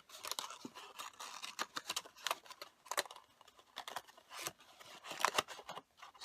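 Die-cut cardstock is folded into a box, producing quiet, irregular crisp crackles and sharp creasing clicks in quick succession, close up and without talk.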